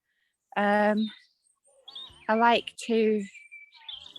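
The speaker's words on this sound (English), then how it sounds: "I'm thinking that's a blackbird. They're always noisy." A blackbird sings in clear, separate phrases, loud and close, with short pauses of silence between the bursts.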